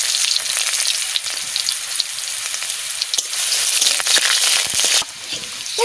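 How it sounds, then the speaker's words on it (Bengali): Garlic frying in hot oil in a pan for a greens and fish curry, a continuous bright sizzle with scattered crackles and pops, fairly loud, with a brief dip near the end. "রসুন দিয়ে দিচ্ছি"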